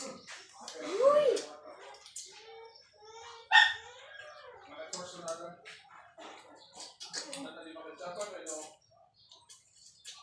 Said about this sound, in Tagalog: Yung malaking aso.